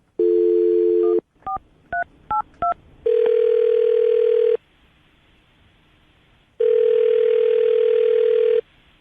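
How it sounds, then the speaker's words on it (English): A telephone being dialed: a steady dial tone, then a quick series of keypad beeps, followed by two long ringback tones separated by silence, clear and close with no talk. "I'm going to dial the phone number right now"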